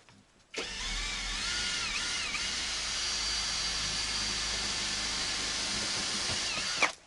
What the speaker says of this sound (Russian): Предварительно сверлим, потом еще раз проверим и крепим.